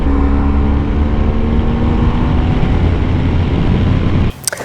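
A Yamaha Tmax 500 scooter is ridden along roads with wet patches from melted snow, a loud, steady engine drone with wind that cuts off abruptly near the end, with no voices.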